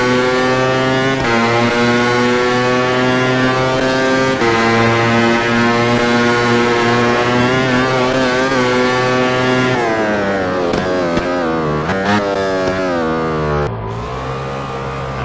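A loud, steady motorcycle engine drone from the video game MotoGP 13 on Xbox 360, with strong harmonic whine, holding pitch then rising and dipping through gear changes toward the end.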